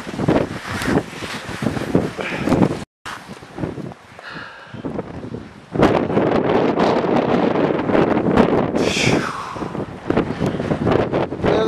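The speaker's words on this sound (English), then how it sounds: "It's so windy." Strong wind gusting across the top of Peak 8 at Breckenridge, buffeting the microphone in loud roaring bursts with a brief lull midway, then steady heavy rushing.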